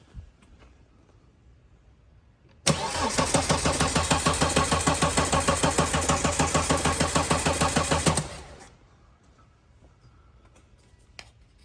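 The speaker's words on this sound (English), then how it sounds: "What I'll do now is crank the engine again." Volvo 2.4 D5 diesel engine cranking with no fuel pressure: about five and a half seconds of loud, rapid, rhythmic starter churning that never catches, then stops, with quiet background before and after.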